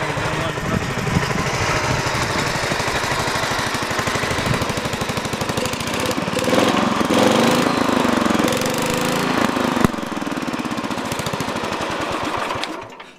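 A Sears Suburban 10 garden tractor engine runs steadily with its air cleaner off, giving a loud, continuous rough mechanical chatter for the whole stretch, with a slight shift in tone partway through.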